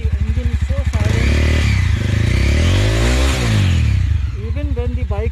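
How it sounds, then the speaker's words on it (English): A 2020 Mahindra Mojo 300 ABS motorcycle with dual exhausts runs close by, its engine note rising and falling around a low idle, while someone talks loudly over it at the start and end. "Idling RPM is around at 1500 RPM."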